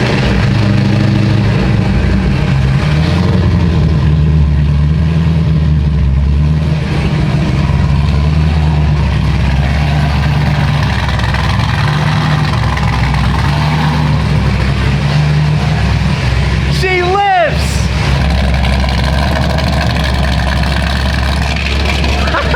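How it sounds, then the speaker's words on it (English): A Corvette started for the first time in a long time settles into a loud, steady idle with a deep, constant rumble, and a brief whirring sweep rises and falls near the end. "It's time to turn this car on for the first time in a long time."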